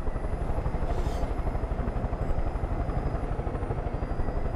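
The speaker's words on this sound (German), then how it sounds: "mit Hubschrauber rumfliegen ist eigentlich ganz cool" Helicopter in the video game Far Cry 5 flying and coming in to land, a steady loud rotor chop with a continuous engine whine throughout, no voices.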